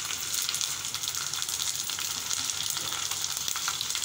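Ginger-garlic paste and tomato paste frying over high flame, a dense continuous sizzle with soft stirring scrapes, close and steady with nobody talking.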